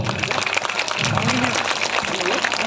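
Hands clap steadily in a dense, continuous patter from an audience at a Sirvi community gathering in Hyderabad, with voices rising faintly beneath the clapping throughout.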